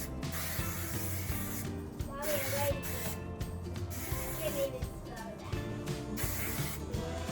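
Repeated hissing bursts of aerosol hairspray on short hair, several short blasts in a row at close range, with faint rustling and handling noises between them.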